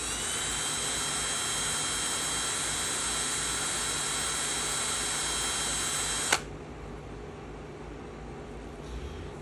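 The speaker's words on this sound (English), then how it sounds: "And here I have a step drill, and the first step on it is 1/4 inch." A step drill with a 1/4-inch first step bores into the lid of a K-Cup or pill bottle, giving a steady, loud whirring grind that runs for several seconds and then stops abruptly, leaving quiet.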